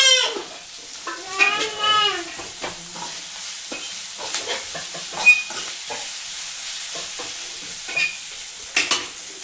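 Ginger-garlic paste sizzles in a pan over a steady hiss, broken by intermittent stirring scrapes, up close at moderate level, with a faint bleating sound briefly heard early on.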